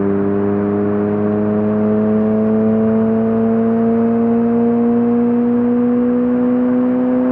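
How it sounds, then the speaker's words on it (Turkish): A car engine revs steadily and climbs in pitch as it accelerates, a loud, close and continuous drone with rising harmonic tones and no talk. "Arabanın sesine hayranım be."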